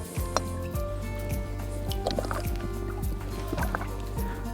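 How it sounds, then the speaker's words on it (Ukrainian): Cooking oil is poured generously into a frying pan, with a gurgling, dripping liquid sound over a steady low hum, close and fairly quiet. "Наливаємо добряче олії і чекаємо на прогрівання сковороди."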